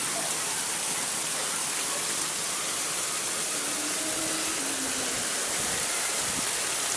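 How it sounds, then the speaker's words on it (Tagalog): Heavy rain pours steadily in a roadside setting, a dense, continuous hiss of water falling on surfaces with a constant loud wash throughout and no voices. "Kahit gaano pa kalakas ang ulan dito mga lodi."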